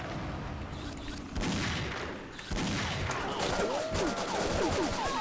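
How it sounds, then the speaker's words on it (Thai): Rapid bursts of machine gun fire ring out in the shooter game X-Shot, loud and close, layered with other gunshots and whistling ricochet-like effects. "เอาปืนกลใส่กูอ่ะ"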